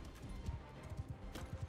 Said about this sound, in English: I need to pull up my horse here